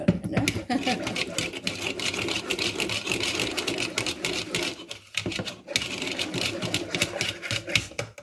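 A centrifugal juicer runs with a loud, steady whirring drone that continues for several seconds, dips briefly around the middle, then resumes at full strength.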